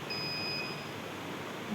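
A school project security alarm buzzer sounds a thin, high electronic tone for under a second over a steady background hiss, then fades out.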